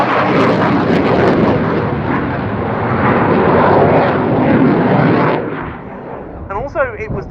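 Loud, sustained roar of a Saab fighter jet performing a display at the RIAT 2019 air show, a broad rumbling wash for about five seconds that then drops away, leaving a faint distant drone with brief speech-like chatter near the end.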